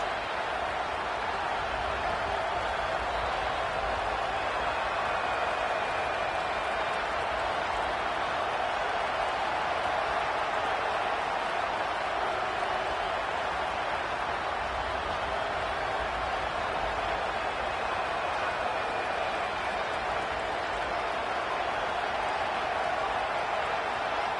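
Stadium crowd in the college football video game NCAA 27 makes a steady, dense roar of cheering and noise that holds loud and unbroken throughout, with faint voices mixed in.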